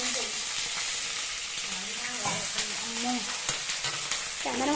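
Steady oil sizzle in a large wok as green chilli, onion, curry leaves, cumin and mustard seeds are tempered, with occasional stirring scrapes and pops over the crackling.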